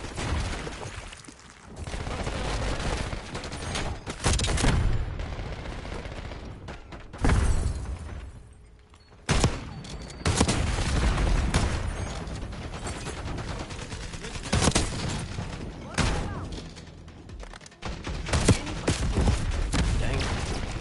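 Rapid bursts of gunfire in Black Ops 6 Zombies, some with a soft, paintball-like popping, come in repeated loud volleys across the clip and mix with other game combat noise.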